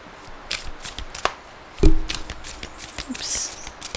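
A tarot deck is cut by hand with a few soft papery clicks and one brief dull slap of cards, close and quiet, with no voices.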